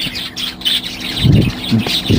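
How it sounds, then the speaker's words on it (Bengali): Small, colourful pet birds in a little cage chirp close by, giving short, bright repeated tweets in bursts, with brief rustling in between. "আমার এই ছোট্ট খাঁচাতে বেশ কালারফুল কিছু পাখি হয়েছে"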